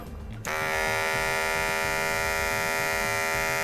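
An Andis ReVite electric hair clipper switches on after a brief quiet moment and runs with a steady, close, high-pitched buzzing hum until the end.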